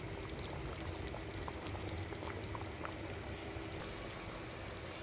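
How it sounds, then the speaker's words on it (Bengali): Dal cooked with a fish head boils in a pot on the stove, a steady, dense bubbling and popping that runs evenly throughout with no voices. "ডালটা ভালো করে ফুটে গেছে।"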